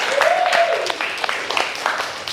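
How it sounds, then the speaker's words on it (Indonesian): Classroom applause at a high school for a student's presentation: a brief burst of scattered clapping from the class, with a thin whistle-like tone and some voices mixed in. "tepuk tangan untuk Aditya"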